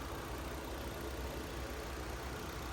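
A 2019 Nissan Kicks with a 1.6-litre engine idles in a steady, close, rumbling drone, even and unbroken for a few seconds, with no one talking.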